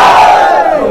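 A dense crowd gathered for actor Duniya Vijay lets out a loud, sustained shout, a brief roaring cheer heard up close that fades slightly at the end.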